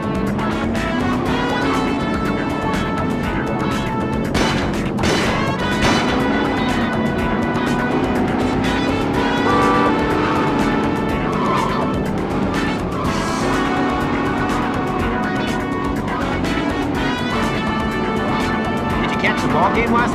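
Car driving and skidding in the PS2 video game Starsky & Hutch, a loud sustained engine roar with shifting pitch, tire squeals and skids, and game dialogue heard over the driving.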